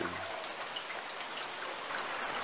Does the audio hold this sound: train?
no